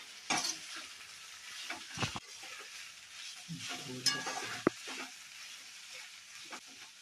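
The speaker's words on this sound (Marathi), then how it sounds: "आता मस्तपैकी सगळं कालवून घेऊया" Spatula stirring okra masala in a frying pan, with soft scraping strokes and a low sizzle, plus a few sharp clanks of utensil against the pan, close and moderately quiet.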